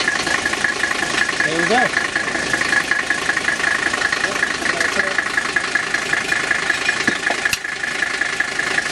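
A 1984 Mercedes 300D W123 diesel engine idles steadily and close with a rough, knocking clatter, while someone speaks briefly over it.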